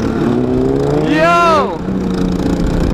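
Kawasaki KLR motorcycle engine accelerating while cruising, a rising then falling whine of the engine swelling over steady wind and road noise for about a second, with a brief spoken word.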